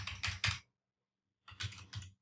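Bursts of typing on a computer keyboard, with two clusters of rapid, close keystrokes separated by a short pause, heard alone without any voices.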